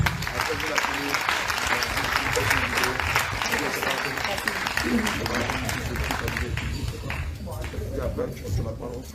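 A congregation applauding during a church worship service, a dense, sustained wash of clapping that fades toward the end, with a voice speaking over it.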